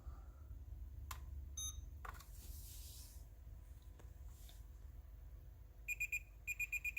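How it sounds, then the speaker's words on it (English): An EMF meter held near a cable modem gives short, sharp electronic alarm beeps in quick bursts toward the end, over a quiet background hum. "as soon as it comes on, I get an alarm, and that's the EMF is high"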